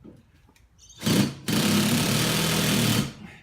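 A power screwdriver drives a screw into wood while overhead garage shelves are being installed: a short whirring burst, a brief pause, then a steady, close buzzing run of about one and a half seconds.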